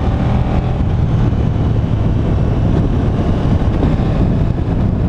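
Wind roaring past the rider of a KTM Super Duke GT motorcycle at speed, a loud, steady broadband rush with a low engine drone beneath and no voices.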